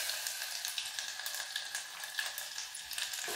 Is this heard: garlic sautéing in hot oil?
yes